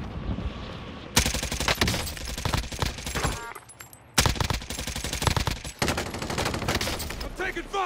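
Rapid automatic AK74u gunfire in a Call of Duty match: loud, dense bursts of shots that run almost continuously, with a short lull in the middle before the firing resumes just as heavily.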